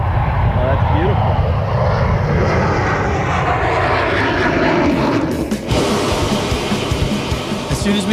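An F-14 Tomcat fighter jet roars loudly down a runway on its takeoff run, a steady dense engine rumble that holds close and powerful throughout, with brief surges and no pause.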